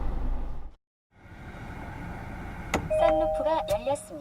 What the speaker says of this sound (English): it's letting us know through the alarm and notification on the gauge cluster